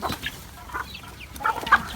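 Farmyard chickens cluck in short, scattered bursts near a morning cattle release, with a few sharper calls standing out toward the end over a low rural background.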